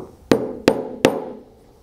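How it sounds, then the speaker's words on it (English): A hammer taps a ball bearing into the small air port of a CivaControl II air system valve, three distinct metallic strikes in even succession, each ringing briefly before the next. "Simply take a ball bearing, place it in to the small air port, and tap it in gently with a hammer."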